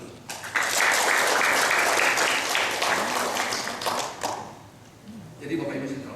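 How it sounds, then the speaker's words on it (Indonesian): Audience applause breaks out at a workshop opening, loud dense clapping that swells quickly, holds, then thins into scattered claps before a voice starts talking at the close. "Tepuk tangan dulu."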